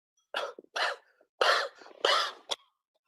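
A voice imitates a coughing fit: five harsh, hacking coughs in quick succession, close and fairly loud, with brief breaths between them.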